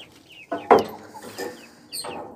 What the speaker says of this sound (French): Là, vous avez les poules